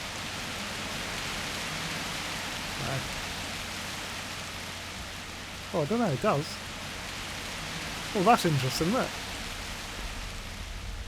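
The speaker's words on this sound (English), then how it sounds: "Oh, it's raining." Steady rain hiss from a weather effect in the city-building game The Universim runs continuously while someone talks over it in short remarks.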